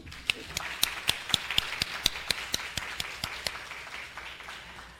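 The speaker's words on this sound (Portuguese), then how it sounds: "uma salva de palmas para a professora" Audience applause at an art information seminar, sparse distinct hand claps ringing out at an uneven, quick pace over a light background wash of clapping, moderately loud, with no speech.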